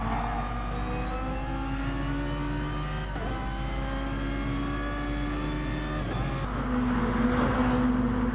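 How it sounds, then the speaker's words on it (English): Racing cars on a long straight in Gran Turismo Sport, a steady high engine whine climbing through the gears, with brief shift dips and another car's note joining near the end. "Will Rocker be able to overtake him down the long straight as we enter the second Lesmo?"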